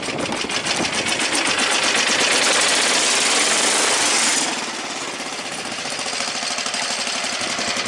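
A homemade pulling tractor's engine runs hard under load with a loud, close, rapid rattling drone that holds steady, then eases to a slightly lower level about halfway through.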